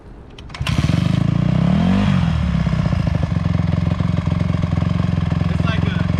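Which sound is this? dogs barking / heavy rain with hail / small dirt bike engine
small dirt bike engine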